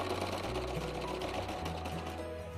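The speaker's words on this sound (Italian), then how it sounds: "Poi partiamo con un punto normale della taglia e cuci" An overlock serger sewing machine runs steadily, stitching thick faux fur for a bag with a two-needle seam; a loud, continuous motor hum with rapid mechanical chatter, close and alone.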